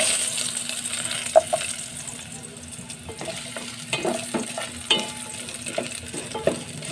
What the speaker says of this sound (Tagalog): Lagyan natin yung luya